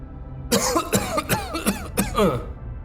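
A series of slight coughs used as an audiobook sound effect for a dark fiction story, about five short dry bursts in quick irregular rhythm, close and clear against a silent background.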